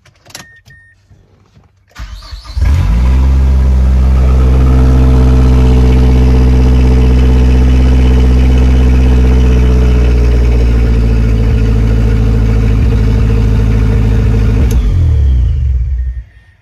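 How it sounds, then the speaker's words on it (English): A Mazdaspeed6 engine with resonator and muffler deleted cranks and fires up with a loud, raw roar, then settles into a deep, throaty rumbling idle before cutting off. "let's give it a quick start. I'm only starting it. I'm not revving it."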